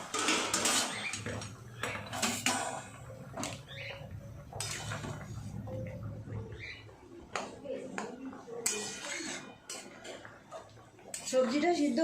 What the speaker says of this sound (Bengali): এবার আমি ঢাকাটা খুলে দেখব সবজিটা কতটা সিদ্ধ হয়েছে।